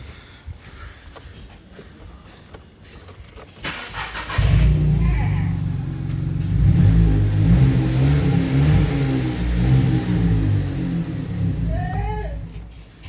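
A 2021 Volkswagen Polo 1.0 MPI is started and revved up, then held at a steady throaty idle with a slight rise partway through, close and loud after a few seconds of quieter handling noise and faint voices.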